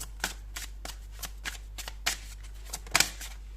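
A deck of tarot cards is shuffled up close during a horoscope reading. It makes crisp, papery flicks and slaps in a quick, uneven rhythm, with a sharper burst near the end.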